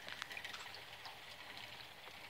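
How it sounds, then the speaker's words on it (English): Light rain falling outside on a cold day, a faint, steady patter of drops with occasional brighter taps, continuous and fairly distant. "it's raining out"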